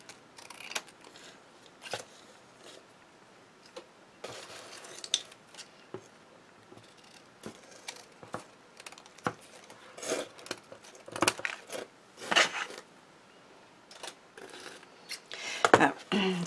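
Small scissors trim card paper in a string of sharp, crisp snips and clicks, scattered irregularly with brief pauses between cuts and light handling rustle, close and fairly quiet.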